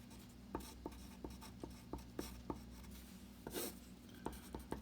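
A pen writes over lecture notes on molarity, producing short, evenly spaced scratchy strokes and taps that repeat steadily at a fairly quiet level with no talking.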